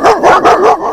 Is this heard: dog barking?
yes